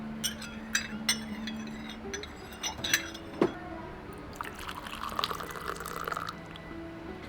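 Hot water trickles and splashes faintly into a small cup as it is rinsed during an oolong tea service, with soft drips and clinks under quiet background chatter.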